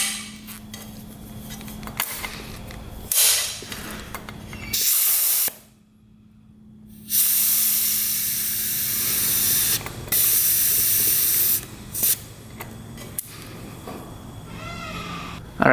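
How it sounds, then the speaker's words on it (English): Air hisses steadily out of a leak on a Honda dirt bike that bogs, in loud sustained bursts with short pauses between them, heard up close. "Alright, so air is definitely leaking out."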